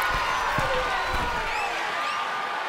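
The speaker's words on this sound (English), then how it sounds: "The sound of this crowd is deafening, and he's asking for more." A dense arena crowd in the wrestling video game WWE 2K23 roars and cheers continuously, a loud wash of voices with faint thuds underneath.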